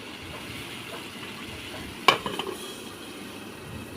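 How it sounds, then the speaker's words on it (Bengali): Potatoes being stir-fried in a pan, a low steady sizzle with occasional stirring scrapes and one sharp metallic clack of a spoon against the pan partway through. "আলুটা দিয়ে ভালো করে কষিয়ে নেব।"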